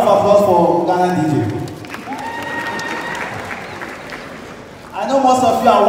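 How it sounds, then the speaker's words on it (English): Audience at a live Ghanaian comedy event applauds for Ghana DJ, a steady wash of clapping in the middle, bracketed by a host speaking loudly over a microphone before and after. "Round of applause for Ghana DJ."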